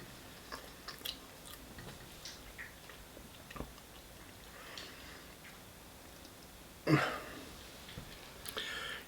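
Quiet chewing of an apricot frangipane pastry, soft irregular mouth sounds with a sharper click or bite partway through, close up.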